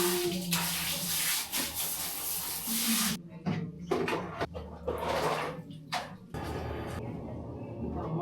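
Water runs for a bath, a steady gushing splash interrupted by brief knocks and shifts of the flow, with faint voices at low level.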